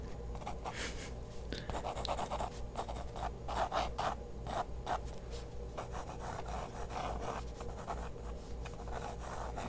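Pencil sketching a portrait on paper, a soft, steady scratching of graphite strokes in quick, uneven bursts, close and quiet with no voice over it.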